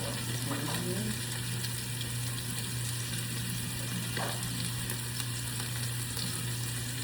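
Steak searing in a hot pan sizzles in a steady, close, broadband hiss alongside a constant low hum, with one or two brief clinks or scrapes and no talking.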